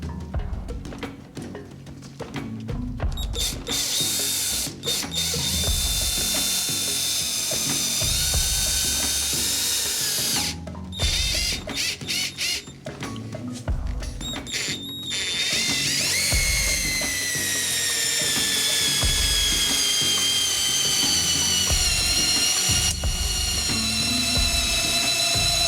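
A Make Tools multi-screwdriver drives a screw with a continuous loud ratcheting, mechanical whirr and clicking, broken by short pauses and restarts; no one talks.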